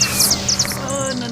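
A cartoon bird screams in rapid high-pitched bursts of chirping squeals, repeated several times over a busy animated soundtrack with a sustained tone.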